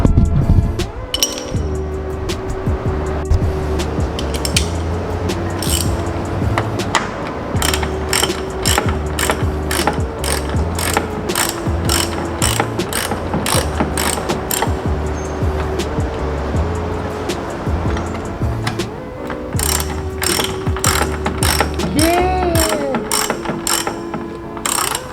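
A 10 mm socket ratchet works bolts loose on an Infiniti G35 during a headlight install, clicking in rapid, steady bursts close up with brief pauses between strokes, loud and continuous throughout.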